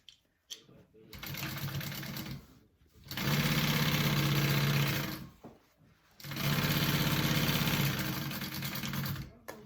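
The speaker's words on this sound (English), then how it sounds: "We're going to go ahead and baste this pocket closed real quick." A sewing machine bastes a bag pocket closed in two loud, steady bursts of rapid stitching, with short pauses and talking between the runs.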